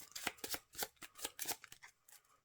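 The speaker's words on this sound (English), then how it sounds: "I'm going to give them a good shuffle" Marvel Champions cards being shuffled by hand: a quick series of soft riffling bursts in an uneven rhythm, close and quiet, tapering off at the end.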